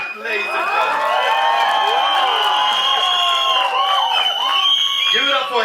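A crowd at a film trailer launch event cheering loudly, with whoops, shouts and whistles layered over applause, sustained and energetic throughout.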